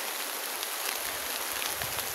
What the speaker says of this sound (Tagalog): Malakas ang bagsak ng ulan